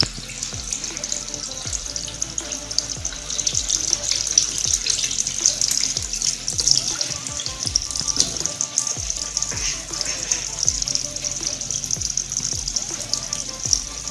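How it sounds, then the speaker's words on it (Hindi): Tap water pours steadily over a hand held under the stream, a constant close hiss with faint splashing, lasting throughout. "आइए चेक करते हैं कि मैं पानी के नीचे अपना हाथ रखती हूँ"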